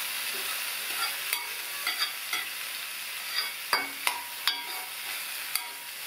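Sugar pumpkin and chana dal stir-fry tossed in a hot pan, with a soft continuous sizzle and irregular clicking spatula taps and scrapes against the metal, close by.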